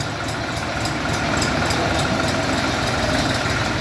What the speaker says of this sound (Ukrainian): Трактор новий, 24 року випуску.